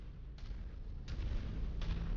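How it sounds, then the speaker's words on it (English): Artillery bombardment in the video game MechWarrior 5, rendered as a low continuous rumble with three muffled booms rolling in from a distance over about two seconds. "Expect incoming bombardments."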